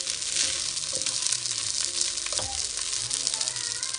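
Rice for Nigerian fried rice sizzles and crackles steadily in a hot pan, a dense close frying hiss with occasional scraping stirs.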